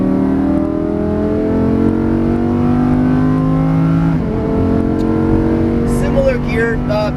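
Lamborghini Huracan LP610-4 engine on a track, a loud close rising rev climbing through the gears with a shift midway, and someone talking near the end.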